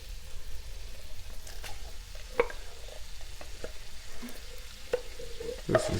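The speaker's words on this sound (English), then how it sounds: "So now we're just going to add our can of chili." Canned chili without beans is stirred into drained ground meat in a hot pan on a stove, a soft steady sizzle broken by scattered scrapes and clicks of the spoon.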